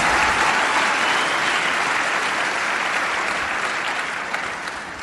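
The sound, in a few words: loud applause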